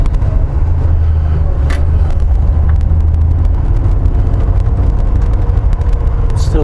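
A four-cylinder car engine pulls steadily in second gear, a loud continuous low rumble from inside the cabin with road and wind noise layered on top and no pauses.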